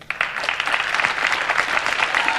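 Audience at a national Eurovision selection show applauds: dense, steady clapping from a large crowd fills the hall, loud and continuous throughout.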